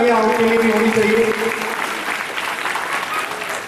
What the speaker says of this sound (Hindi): एक बार जोरदार तालियां उनके लिए भी होनी चाहिए।